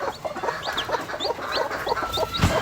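Desi gavran chickens and their chicks cluck and peep close by on a farm, with a busy overlapping chorus of short calls and high chirps running without a break.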